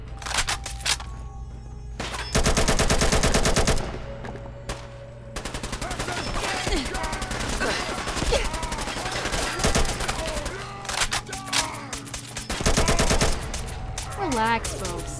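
Dense automatic gunfire in Fallout 4, long rattling bursts with pauses between them over a game soundtrack, loud and close, with voices now and then.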